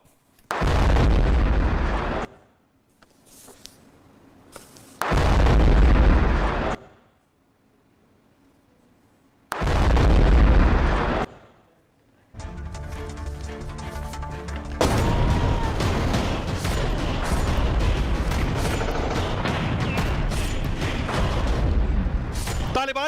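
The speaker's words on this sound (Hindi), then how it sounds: "ये बसें जिसमें पाकिस्तानी सेना के लोग थे और इसमें धमाका हुआ है" Explosions striking Pakistani army trucks and buses, a series of heavy booms in separate bursts with silent gaps between them, then a sustained loud rumbling roar.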